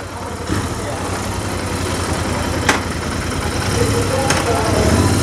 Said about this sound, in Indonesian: Kita langsung test ride aja motor ini.